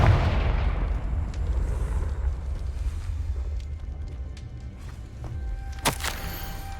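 A Confringo blasting spell in a Harry Potter video game erupts in a loud, rumbling low boom that fades slowly, followed by scattered faint crackles and one sharp snap near the end.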